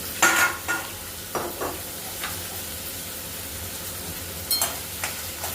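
Onions frying in a small amount of oil for mint pulao, a gentle steady sizzle punctuated by a few close spatula scrapes and stirs.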